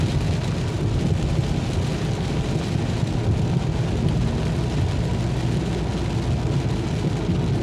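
Heavy driving rain during a motorcycle ride, a dense, steady roar of wind and water mixed with engine and road noise, loud and continuous without any voices.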